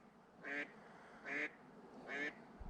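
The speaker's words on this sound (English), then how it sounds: "The duck's just been sitting on the rock the whole time." A duck sits on a rock at Lake Oroville and quacks three times in evenly spaced, fairly loud bursts, clear against quiet lakeside air.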